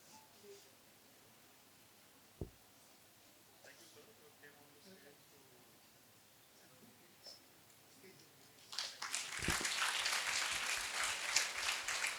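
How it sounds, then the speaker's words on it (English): A seminar audience breaks into loud applause for a speaker after a memento presentation, starting near the end of the clip, with quiet room noise and murmurs before it. "A loud round of applause for Shri VIVEK Atrey"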